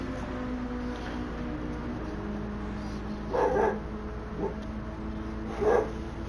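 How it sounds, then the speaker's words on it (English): A dog barks at the neighbors a few separate times, faint and in the background against a steady hum. "Got my dog barking at the neighbors."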